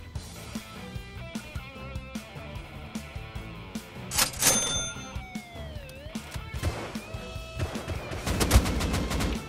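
Gunfire while killing a player in the video game Rust, scattered rapid shots and bursts mixed with metallic dings and other game sounds, fairly quiet overall.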